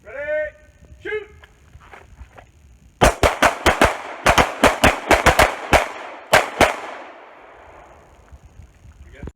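Rapid pistol gunshots from a Viking combat pistol on an outdoor shooting course ring out loud and close in an uneven string of about fifteen sharp cracks with echo, after brief shouted commands.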